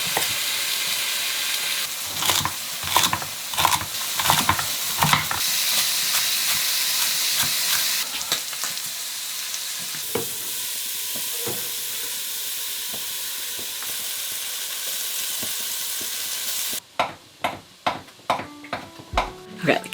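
Beef sizzles in a large stew pot in a home kitchen, a steady loud frying hiss broken by clattering stirs and scrapes, with sharper, more distinct sizzling bursts near the end.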